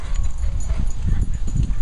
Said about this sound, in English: Let me get my dog.